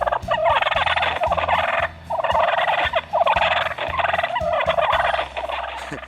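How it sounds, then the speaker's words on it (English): Loud, continuous raspy rattling of turkey fighting purrs, like sparring jakes, played as a recording on a Cass Creek electronic game call, surging in overlapping bursts with brief dips. "Here's some fighting purrs."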